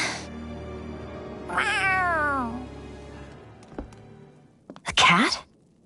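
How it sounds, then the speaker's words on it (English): Cat meowing in Tales of Arise, one long falling meow heard clearly over soft game music, followed by a short thump and then a second brief, sharper cry. "A cat? Where'd it come from?"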